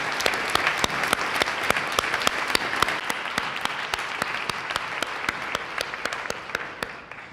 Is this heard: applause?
yes